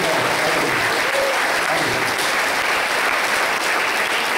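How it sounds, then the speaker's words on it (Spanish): A crowd applauds continuously, dense steady clapping filling the whole stretch at full volume. "Un aplauso."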